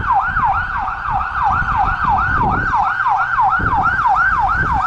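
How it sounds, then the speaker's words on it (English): An ambulance siren wails close and loud in a rapid rising-and-falling yelp, with traffic rumbling beneath it. "Oh, here comes an ambulance."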